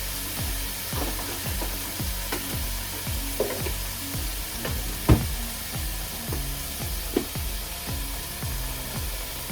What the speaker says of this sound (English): As for the sauce, have some tomato paste here that I'm gonna throw in